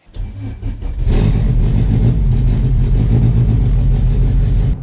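A 600-horsepower LS-swapped Honda Civic with VTEC, leaking coolant and oil and idling rough, pulls away and revs hard, its loud, close engine roar rising after a quieter first second and holding steady.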